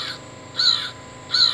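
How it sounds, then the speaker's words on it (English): Recorded American crow call from a Wild Republic Audubon plush toy: three harsh, raspy caws, evenly spaced, close and clear, with no voices. "American crow."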